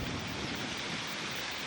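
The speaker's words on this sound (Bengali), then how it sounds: "সেই হাওয়া দিচ্ছে, আর তার সাথে ঝিরঝির করে বৃষ্টি পড়ছে" Storm with gusting wind and light drizzling rain, a dense steady rushing hiss without a break, moderately loud and close.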